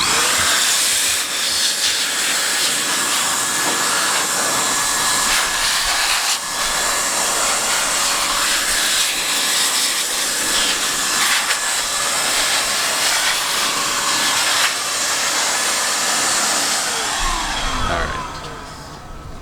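Compressed air blasts dust out of a computer case outdoors, a loud sustained hissing rush with slight pulsing bursts that cuts off at the end, no voices.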